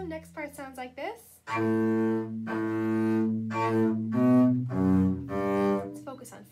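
Bass guitar playing the next phrase of the Can-Can melody slowly, a few sustained picked notes in sequence, close and clear, after a brief run of shorter plucked notes at the start.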